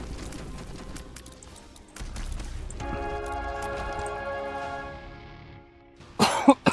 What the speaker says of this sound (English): That's a cough that I'm not editing out.